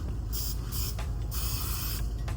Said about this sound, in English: this hairspray, it's just one of those that takes me back to those days